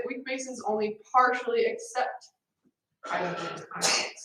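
A single sneeze in a chemistry classroom, mixed in with a teacher lecturing, then a brief silence before the talk resumes.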